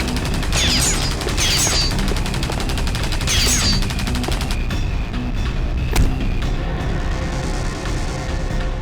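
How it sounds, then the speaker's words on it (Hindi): Rapid bursts of gunfire from a Hindi TV crime serial scene, shot in a graveyard, ring out in dense repeated volleys with sharp cracks over a steady background, close and loud throughout. "बहुत हो गई तेरी गोलीबारी।"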